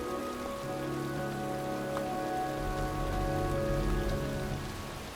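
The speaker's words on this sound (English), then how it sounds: "It's cold. It's raining. I'm standing outside getting soaked." Steady rain pours down in the video game Heavy Rain, a dense continuous hiss with low ambient hum and tonal music underneath, constant and close throughout.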